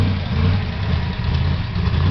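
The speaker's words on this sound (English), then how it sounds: "Big block Chevy." A big-block Chevy 454 engine in a Camaro idles loudly and close by, a steady deep rumble with slight lumpy variation throughout and no voices.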